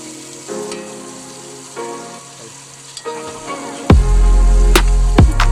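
Stir-frying in a wok on an RV camping trip, working to bring out red chili oil: a close steady sizzle with scraping stirs, swelling into a louder hiss when more food hits the hot oil.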